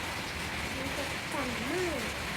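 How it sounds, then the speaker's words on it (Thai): Heavy rain falls as a steady, dense hiss throughout, with a child's and adult's voices talking softly over the downpour. "ฝนตกช่ำเลยอ่ะ"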